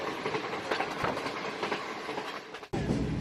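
Continuous rumble and rattle of the Green Line Express passenger train running on rails between Karachi and Lahore, with rhythmic clickety-clack of wheels and a sudden sharp shift in the noise near the end.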